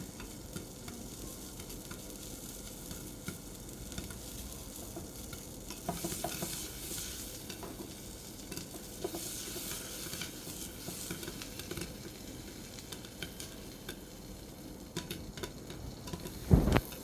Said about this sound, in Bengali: ভালোই লাগে যখন পপকর্নগুলো একদম ফুটতে থাকে